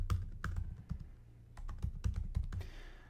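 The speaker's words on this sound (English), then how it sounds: "I'm going to type in my email." An email address being typed on a computer keyboard, close rapid clicking keystrokes in short uneven bursts with a brief pause in the middle, with no talking.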